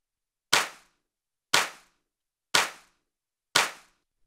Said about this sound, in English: So now I'll play clap number 2 in solo so you can hear what that sounds like on its own.